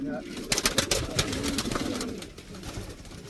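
Young show pigeon in a loft gives low cooing calls amid flapping and shuffling noises, close by, with someone talking over the birds.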